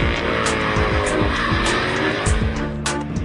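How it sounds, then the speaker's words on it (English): A Mercedes C63 AMG with a 6.3-litre V8 drives hard, its engine rising and falling through repeated sweeping revs and gear changes, loud and close, with brief tyre squeal. "Now when you're driving the new C63, it's immediately clear this car is much more powerful than its rivals."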